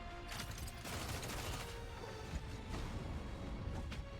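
Sustained covering gunfire and artillery in the mech video game Mecharashi, a dense continuous barrage of rapid shots and booms with no voices over it.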